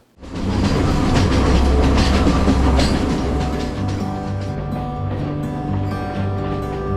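A train on the hill-country railway in Sri Lanka, past tea plantations and along cliffs: a loud, continuous rumble and rattle of wagons on the rails, heard from on board.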